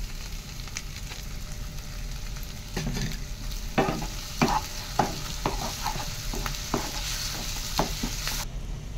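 Ginger, garlic and tomato fry in a pan for a jackfruit and prawn curry, giving a steady close sizzle broken by intermittent scraping stirs.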